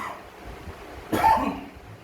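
A single close cough blamed on a dust allergy, one short harsh burst from a teacher in a quiet room.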